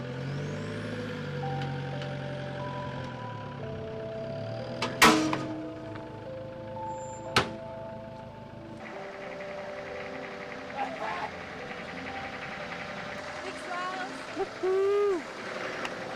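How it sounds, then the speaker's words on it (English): A Toyota 60 series 4WD, towed by another vehicle on a 4x4 track in South Australia, grinds and rumbles as it is pull-started, with a steady engine drone, a few sharp clanks and a brief whoop from a voice. "we decided to give her a pull start because that's the fastest way to do it"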